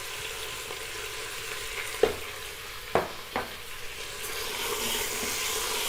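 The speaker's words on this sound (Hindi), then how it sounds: "गोश्त में एक प्याज ऐड कर दूंगी।" Sliced onion added to mutton in a pot for aloo gosht, giving a steady close-up fry sizzle with a few sharp clinks and scrapes of a stirring spoon.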